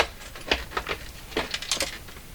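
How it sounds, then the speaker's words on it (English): Faint, irregular metallic rattling and clicking from a loose screw inside a Stanton STR8-80 turntable, a few quick bursts scattered over a couple of seconds, close by and quiet, with no voices. "I hear a screw or something flopping around."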